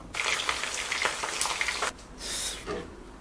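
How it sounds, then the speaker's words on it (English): Curry ingredients stirred into hot oil in a pan for a yellow Thai curry, a steady close sizzle and frying crackle with scraping stirs, briefly dropping away before a softer sizzle returns. "Then we stir all that in together"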